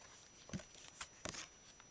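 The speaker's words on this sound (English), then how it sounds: "So I'll shuffle, and then I've got this one and this one." Tarot cards being shuffled in the hands, a few short papery riffling bursts with quiet gaps between them, close and fairly soft.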